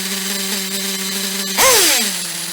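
A nitro engine runs at a steady high buzzing whine during needle tuning, then surges sharply in a rising-and-falling rev burst before settling back, loud and close.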